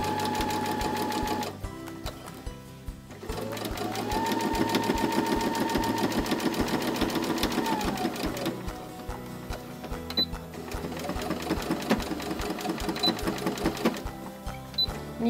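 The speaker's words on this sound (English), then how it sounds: "go right up next to the edge, back and forth a couple times to lock those stitches" Sewing machine stitching along the edge of a zippered pencil pouch, running in quick bursts that include a back-and-forth stretch to lock the stitches, close and steady with short pauses between runs.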